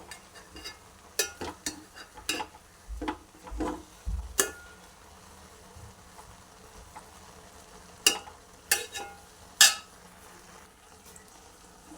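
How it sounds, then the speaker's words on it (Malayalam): Food being stirred in a cooking pan for an Easter dish, heard as a series of sharp scraping clinks of a spoon against the pan, irregular and close, with quieter gaps between strokes and no talk. "ഇത് നല്ലതുപോലെ ഒന്ന് ഇളക്കി കൊടുക്കാം."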